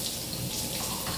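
Tap water running steadily into a sink to wash raspberries, a continuous close hiss of flowing water with no talking.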